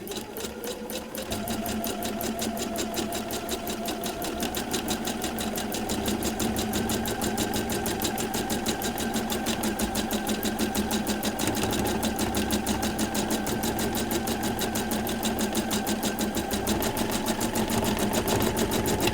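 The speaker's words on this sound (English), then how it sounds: "rather than bore you with this repetitive sewing" A sewing machine hums in a fast, even rapid stitching rhythm, doing bobbin work on an appliqué embellishment for an art quilt, loud, close and unbroken throughout.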